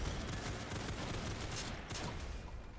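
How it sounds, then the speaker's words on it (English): Very rapid, continuous automatic gunfire from a fast-firing weapon in the shooter game SYNTHETIK 2, a dense unbroken stream of shots, steady and fairly quiet with no talk. "This gun is shooting"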